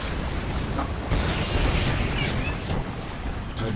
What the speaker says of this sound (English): Tiberian explosion detected.